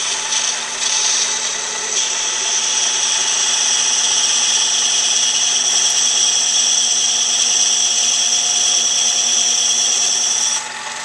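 A machine tool facing a fabricated metal base down to final thickness gives a steady, loud, continuous whine with a bright ringing edge that holds evenly for the whole stretch and then stops. No one speaks.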